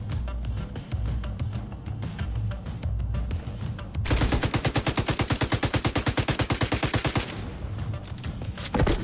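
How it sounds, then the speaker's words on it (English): Rapid automatic gunfire from The Division 2 on PC, with scattered shots at first and then a long, loud, evenly spaced burst that stops and returns as a final shot. "Who is shooting that?"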